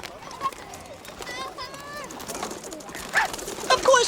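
Pigeons coo in soft, repeated warbling calls beneath a narrator's steady talk, with light fluttering and scuffling close by.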